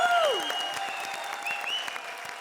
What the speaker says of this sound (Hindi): जीतू जी के लिए जोरदार तालियां